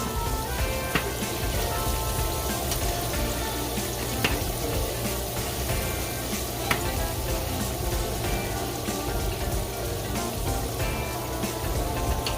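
Shrimp fry in hot oil, giving a dense, continuous crackling sizzle that holds at an even, fairly loud level throughout, with occasional sharper pops and no speech.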